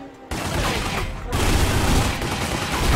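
Magnum pistol shots ring out in The Godfather video game, a dense burst of loud, overlapping gunfire mixed with game action that stays continuous and busy throughout, with no speech over it.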